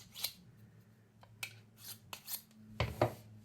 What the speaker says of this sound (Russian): А просто взять бруском и сделать вот так пару движений